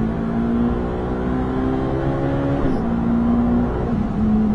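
A Ferrari 458 Italia V8 is heard onboard during a lap at Spa. It gives a loud, sustained drone that eases off and dips in pitch as the car brakes for a corner, then holds steady again.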